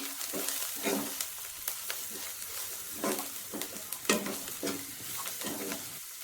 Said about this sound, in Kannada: ಗರಂ ಮಸಾಲ ಮತ್ತು ಧನಿಯಾ ಪುಡಿ ಹಾಕ್ಕೊಂಡು ಚೆನ್ನಾಗಿ ಮಿಕ್ಸ್ ಮಾಡ್ಕೊತಾ ಇದ್ದೀನಿ.